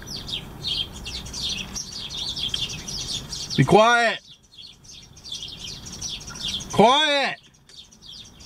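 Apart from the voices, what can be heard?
flock of birds chirping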